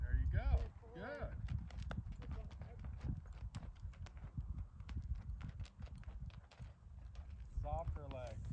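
A horse's hooves clip-clop steadily at a walk during a riding lesson as it goes around a right turn, a voice coaching over the footfalls.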